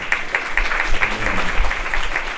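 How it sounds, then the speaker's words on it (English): Audience at a fireside chat on racism applauds a vice president, a steady wash of many hands clapping at moderate loudness with no talk over it. "we can give her a round of applause"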